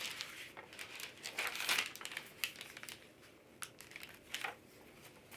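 Close paper crinkling and snipping as scissors trim a paper pattern for a handmade hot chocolate mini journal, with irregular crisp rustles and a brighter burst partway through, no talking.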